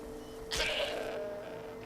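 A goat in the video game Skyrim gives one short, quavering bleat midway through, fairly close against a quiet steady hum of game ambience.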